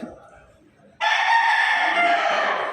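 A rooster lets out a loud, sustained crow, close by and piercing, rising abruptly after a quiet stretch of low background sound.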